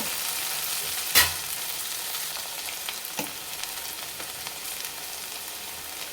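Okra curry, its sliminess cooked off, stirred in a pan, giving a steady close sizzle of frying with a sharp spoon clack near the start and a softer scrape a couple of seconds later; no voices.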